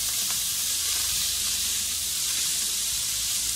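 Chopped bacon frying in a pan for carbonara, a loud, steady close sizzle and hiss that fills the whole moment without pause.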